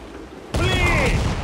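A sudden loud blast of heavy ship cannon fire in Assassin's Creed IV: Black Flag bursts in after a quiet half second, rumbling on with rolling booms and a ringing tail.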